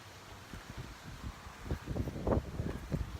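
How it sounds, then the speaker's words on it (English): Gusty wind buffets the microphone in rumbling bursts, building louder toward the end with rustling noise throughout. "Whoa, windy."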